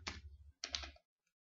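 Typing a search word on a computer keyboard, two short bursts of quick key clicks close to the microphone, separated by a brief pause, then quiet.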